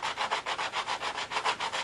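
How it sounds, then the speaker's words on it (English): Rough sanding block rubbed over wooden model aircraft fuselage sides, a steady rhythmic back-and-forth scrubbing of about eleven even strokes, close and clear with no talking. "I have the rough sanding block"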